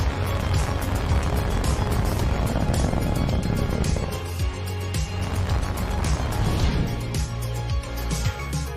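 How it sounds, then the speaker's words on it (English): A Falcon 9 rocket lifting off, a continuous loud, distant rumbling roar with crackling texture that holds steady throughout, with no clear speech over it. "Liftoff. Falcon 9 has cleared the tower."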